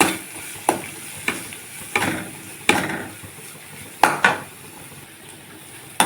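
Onions and curry leaves stirred in a pan, a spoon scraping and clanking against the metal in irregular strokes about once a second, close and clear over a faint sizzle, with no talk.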